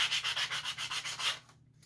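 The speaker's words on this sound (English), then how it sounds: "So we'll take the sanding block with some coarse sandpaper on it." Coarse sandpaper on a sanding block rubs over wood while shaping a part for a scratch-built RC plane, giving about nine quick, even back-and-forth strokes up close before falling silent.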